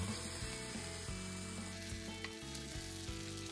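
Okonomiyaki batter sizzles steadily in a hot oiled pan, a close, continuous frying crackle with a few soft scraping touches and no talking.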